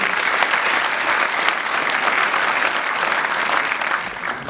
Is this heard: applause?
yes